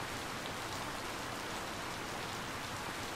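Steady rain falls in the Harvest Moon farming game, a dense, even hiss of drops that runs unbroken and alone at a moderate level from start to finish.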